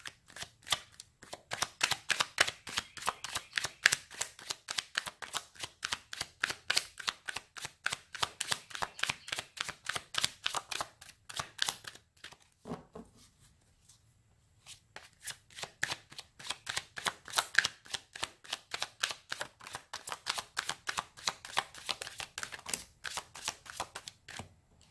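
Tarot cards are shuffled in quick, crisp riffles, a dense run of soft flicking snaps that pauses briefly midway before resuming at the same close, quiet pace.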